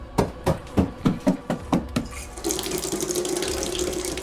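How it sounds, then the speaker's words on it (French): Water from a tap runs into a sink while hands are rinsed, opening with a string of rhythmic knocks before a steady splashing stream takes over, close and moderately loud. "Je me précipite à l'évier et j'essaye de me rincer les mains."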